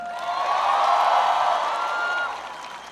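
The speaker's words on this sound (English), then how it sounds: "Please give Misha a big round of applause for the great introduction" A large university crowd at Iowa State University in Ames fills the air with a dense, steady roar of applause and cheering. It swells and holds for about two seconds before easing off.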